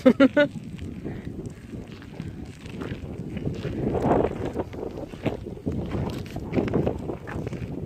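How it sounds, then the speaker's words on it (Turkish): Gusty wind buffets the microphone at Altınova, Ayvalık, with a low, uneven rumble, rising and falling throughout, with a brief voice and scattered rustling at the start. "Şu anda rüzgarlı bir hava var."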